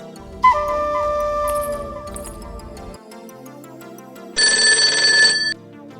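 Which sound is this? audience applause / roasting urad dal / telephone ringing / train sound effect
telephone ringing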